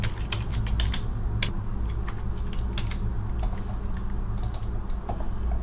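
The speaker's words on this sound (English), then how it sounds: "From here you can simply type in your question," Rapid clicking keystrokes on a computer keyboard as a question is typed into a chat box, close and steady, in irregular bursts without speech.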